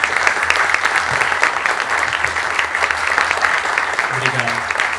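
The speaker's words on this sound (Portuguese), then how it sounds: "Eu peço uma salva de palmas para vocês mesmo," An audience at a São Paulo music event gives sustained, dense applause, loud and continuous throughout, with a few voices briefly audible near the end.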